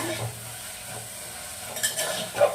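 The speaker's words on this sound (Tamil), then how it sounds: "இது வந்து நல்லா ஒன்று ரெண்டாக வதக்கிட்டுங்க" Soft, continuous sizzling of bitter gourd sautéing in a pan, with occasional light scrapes and clinks from stirring, close by.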